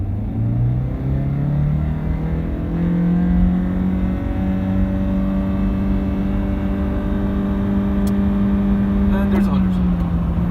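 A 2010 Honda Civic Hybrid accelerates with its engine note rising steadily in pitch, a smooth continuous hum under road rumble, with a few light clicks near the end.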